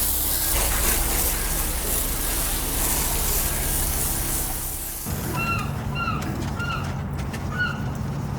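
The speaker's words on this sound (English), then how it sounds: "We're gonna spray a pretty thick coat of the hull and bottom cleaner on here." A spray nozzle hisses continuously as a thick coat of hull and bottom cleaner is applied to the underside of a dirty boat hull. The hiss stops midway and birds chirp briefly in the background.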